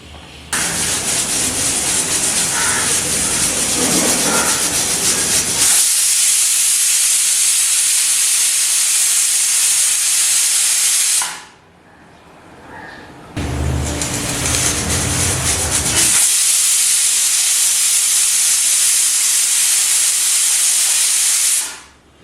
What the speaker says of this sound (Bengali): 2টো সিটি দিয়ে নেব